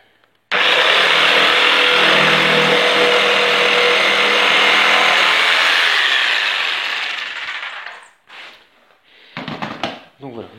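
A power saw cuts along the side of a wardrobe panel, a loud sustained whining roar that holds for several seconds, then fades out. Handling clatter and a few brief noises follow.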